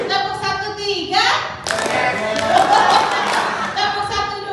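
Group of training participants clapping in a counted pattern at an education workshop, a dense burst of many hands clapping together in the middle, with an instructor's voice speaking before and after.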